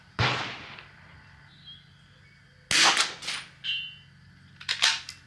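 Rimfire shots from a Vudoo rifle loaded with Eley Club ammunition, three sharp separate cracks spaced a few seconds apart, close and fairly loud with quiet between them.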